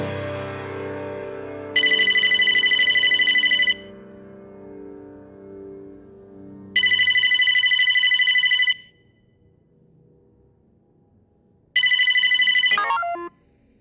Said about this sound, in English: someone is making a phone call